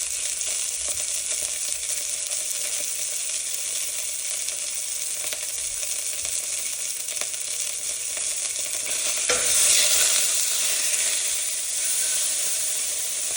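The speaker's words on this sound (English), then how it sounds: "Give this part a nice little sizzle." Steady, loud sizzling of steak frying in a hot pan, a continuous crackling hiss that swells briefly near the end.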